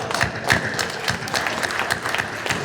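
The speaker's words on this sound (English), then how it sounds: "Let's give him a round of applause." Brief burst of audience clapping for a longtime sheriff's office officer marking 55 years with the Bossier Sheriff's Office, scattered hand claps with individual slaps standing out, moderately loud.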